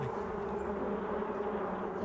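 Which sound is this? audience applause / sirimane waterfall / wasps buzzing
wasps buzzing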